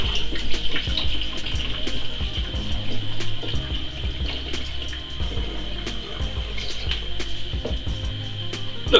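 A eucalyptus blossom honey mead mixture is poured through, a close, steady liquid trickle and splash with scattered clinks running throughout.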